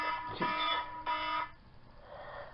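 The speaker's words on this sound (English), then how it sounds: "And that's my alarm to tell me, hey, time to feed the pig" A phone alarm reminder beeps loudly in a few tonal pulses, then stops, leaving a quiet room with faint background hiss.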